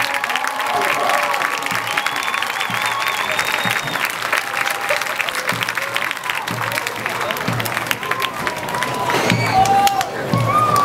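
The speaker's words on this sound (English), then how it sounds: "Ladies and gentlemen, how about a round of applause once again for" A big audience at a high school marching band show claps and cheers continuously, a loud, sustained wash of applause with scattered whistles and shouts that swells near the end.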